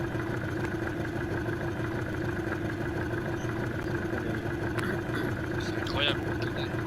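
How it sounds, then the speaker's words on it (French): A boat engine in a cooperative video game idles with a steady, droning hum throughout, while people talk over it. "j'ai allumé le moteur, et comme ça, il devrait peut-être l'entendre"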